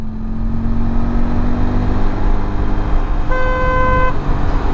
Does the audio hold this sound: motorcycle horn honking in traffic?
yes